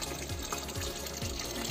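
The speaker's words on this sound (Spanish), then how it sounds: "Antes de darles de comer les voy a rellenar el estanque." Water pours steadily into a turtle pond for Rhinoclemmys areolata turtles, a continuous low rushing flow like a running tap, with no talk over it.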